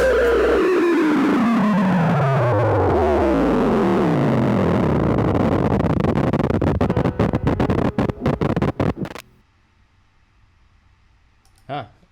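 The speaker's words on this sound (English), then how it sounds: "Add some distortion on it." Heavily distorted, swirling effects-laden ending of Radiohead's Karma Police, with loud pitch-sliding delay feedback that breaks into stuttering glitches before cutting to near silence, followed by one faint short burst.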